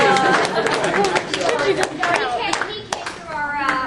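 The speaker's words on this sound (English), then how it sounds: "Round of applause for Gendo here." Audience clapping for a cosplayer at an Evangelion fan panel, a burst of close applause with chatter and a few voices mixed in.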